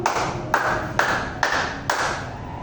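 A classroom group claps five sharp, evenly spaced beats in unison, each a loud crack with a short room tail between them.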